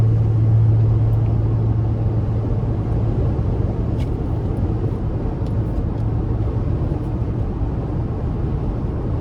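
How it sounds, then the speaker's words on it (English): Inside a 2025 Toyota Land Cruiser Premium i-Force MAX cabin on the move, a steady broadband wind rush blends with low road rumble, constant and moderately loud with no speech. "Now, if you're listening closely, you'll hear the wind noise."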